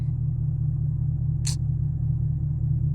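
A Camaro SS with a muffler delete cruises a rainy highway, its engine giving off a steady, deep, droning rumble from inside the car, broken once by a brief hiss.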